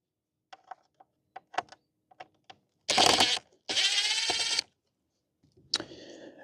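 Small clicks and taps as a driver works T10 screws out of a tow-mirror light fixture on a RAM 3500, followed by two loud whirring bursts of a powered screwdriver and a final sharp click, close and without talk.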